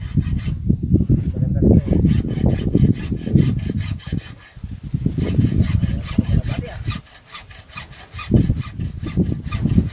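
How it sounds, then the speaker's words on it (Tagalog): A hand saw rasps through bamboo in quick back-and-forth strokes, loud and close, pausing briefly before resuming its rhythmic scraping. "Itong gamitin natin na lagari."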